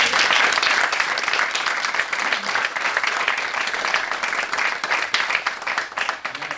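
A conference audience at a port shipping agents and stevedores event breaks into steady, dense applause that carries evenly through the whole stretch, loud and close, with no pauses.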